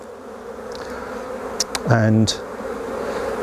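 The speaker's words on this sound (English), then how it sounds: "gently shake the bees off" Honey bees buzz in a steady low drone as they are shaken off a hive frame during a disease inspection, with a louder burst of buzzing midway and a voice speaking briefly.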